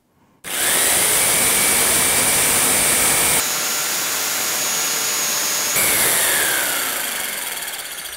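A jigsaw cutting at its highest speed with pendulum oscillation on setting 3 runs as a loud, steady, high-pitched motor whine with a shift in tone partway through, close and with no talk.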